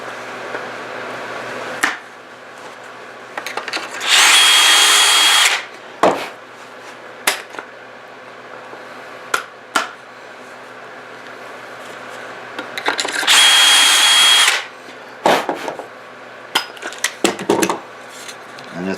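A drill bores pocket holes in a wooden workpiece through a Kreg jig, giving two close, loud bursts of high whirring a few seconds each, separated by scattered clicks, knocks and handling noises.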